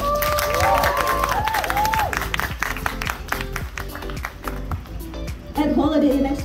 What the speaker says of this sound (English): Please give the loudest applause to the hotel team for making this work.